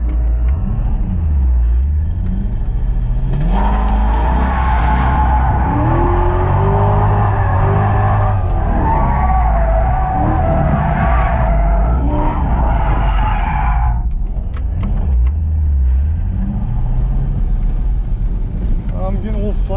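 A stock C5 Corvette drifts with its tires skidding and squealing and its engine revving hard, a loud, close, continuous roar whose pitch swoops as the car slides.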